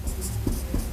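A teacher writes notes during a class-12 physics lesson, short scratchy strokes of writing heard close and moderately loud across a brief moment.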